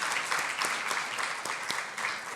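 Congregation applauding during a Spanish-language church sermon, a continuous even wash of many hands clapping at moderate volume, fairly distant.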